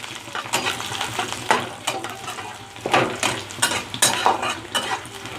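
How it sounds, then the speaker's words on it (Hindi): Garlic, ginger and dry chillies frying in oil for a Chinese chicken dish: steady sizzling, with repeated spatula scrapes and metal clinks against the pan at an irregular pace, close and fairly loud, with no talking. "देखिए इस तरीके से इसको हम अच्छे से फ्राई करने में छोड़ देंगे। गार्लिक जिंजर अच्छा पक जाना चाहिए।"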